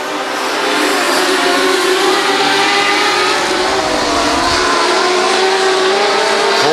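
Sprint cars racing on a dirt oval and bumping each other, engines roaring loud and close in a sustained, shifting drone that rises and falls without break.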